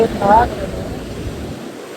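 Nanda river water rushes steadily with a broad hiss near Kedarnath, and a voice is briefly audible near the start.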